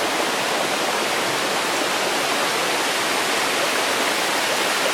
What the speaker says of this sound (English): softly running up from the mountain, water flowing into the river